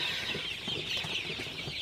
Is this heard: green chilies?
no